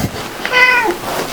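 A pet cat gives a single clear, high meow at close range in a quiet room, with faint room noise around it.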